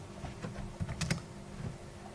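Quiet keystrokes on a computer keyboard while entering a drawing command, a few soft clicks bunched near the middle of a short stretch with low room hum and no talking.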